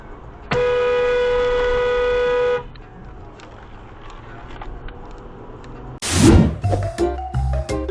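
On a road, a car horn blasts one long steady honk for about two seconds, then traffic noise continues and a louder, harsher horn burst with a rough crash-like clatter breaks in near the end.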